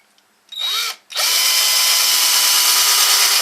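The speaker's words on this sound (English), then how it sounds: "and then drill the hole." Drill boring a hole into a wooden bowl blank, a brief whirring spin-up followed by a short gap, then a steady, loud, continuous high whine that runs to the end.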